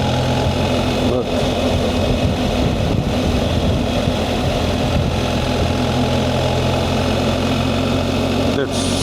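A BMW R 1300 GS Adventure motorcycle rolls along slowly, its engine giving a steady, close low drone mixed with road and wind noise that holds evenly throughout.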